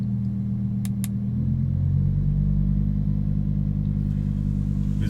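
A Lamborghini Huracan Evo RWD idles in Corsa mode, its exhaust holding a deep, steady low rumble close by that thickens slightly after a brief blip, with no talking.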